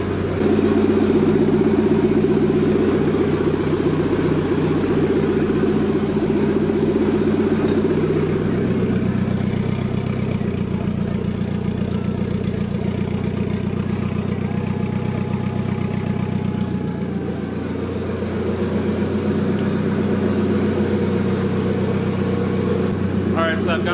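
Nissan 240SX with a turbo drift build setup runs loud and steady after a coolant fill, a dense idling engine drone sustained throughout with slight shifts in pitch.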